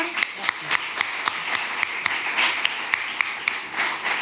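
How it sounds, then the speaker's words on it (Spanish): Audience at an awards ceremony at a rural hotel claps steadily, a sustained spread of applause with sharp, regular hand strikes up close, a voice present beneath. "un fuerte aplauso, por favor"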